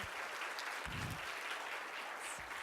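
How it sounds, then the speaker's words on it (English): Applause from an audience at a conference introduction, a steady wash of clapping through the short stretch at moderate level, with a few low thumps and no talk. "can we please give them a round of applause?"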